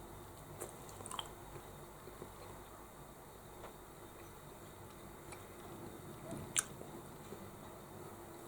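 Close, soft chewing of a bite of cooked ox liver, with wet squishy mouth sounds and a few small clicks spread over several seconds in a quiet room, no talking.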